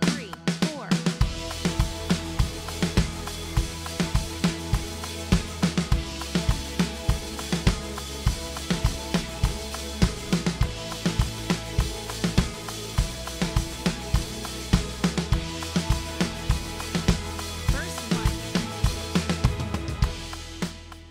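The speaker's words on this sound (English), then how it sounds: "The intro of this tune is a 16th note groove that's pretty simple on its own," A drum kit lays down a simple, steady 16th-note groove beside a melodic electronic tom pattern, dense and loud from start to finish with no voices.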